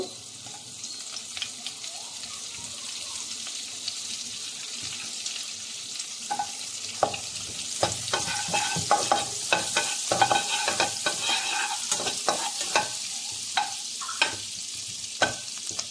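Butter sizzles in a pot while chicken kabsa is cooked, a steady crackling hiss with scattered clinks and scrapes of stirring over it.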